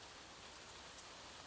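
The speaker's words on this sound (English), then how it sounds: "let the sound of the rain outside" Steady rain falling outside, a dense even hiss throughout without pause.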